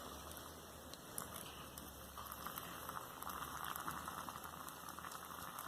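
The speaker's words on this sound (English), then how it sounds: "the kettle has just finished boiling and I've already peeled back that lid, so we'll start to get the water into there now" Steady rushing, bubbling pour of just-boiled kettle water into an instant noodle pot, continuous and close, with a soft hiss throughout.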